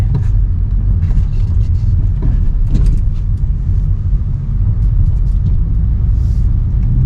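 A 2014 Ford Mustang drives along a straight main road under roadwork in poor condition, giving a loud, steady low engine and road rumble heard from inside the car, with no talk.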